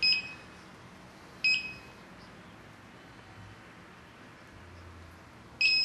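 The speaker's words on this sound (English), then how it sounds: "you should hear the long beep sound" Three short electronic beeps, bright and tonal, sound at spaced intervals over a quiet background hiss as a quadcopter syncs with its radio; the last one longer and clearer.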